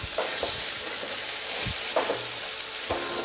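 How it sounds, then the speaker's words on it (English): Moong dal curry with tomato being stirred in a pan over a low flame, soft scraping strokes recurring every half second or so over a quiet continuous sizzle, close by and with no voices. "try to mix the dal properly by putting the stove in the low flame"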